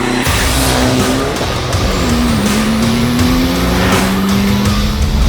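A race car engine pulls hard and rises steadily in pitch as it launches, close and loud, with a noisy, rough texture that may include tire squeal.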